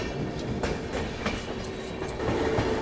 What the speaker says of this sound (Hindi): देखते हैं कि ट्रेन यहाँ पे रुकती है या फिर ऐसे ही स्लो रफ्तार में यहाँ से निकल जाती है